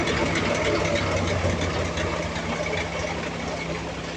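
A freshly overhauled Cummins QST30 diesel engine idles steadily during a test run, giving a continuous low rumble with a mechanical hum at an even level and no clear breaks.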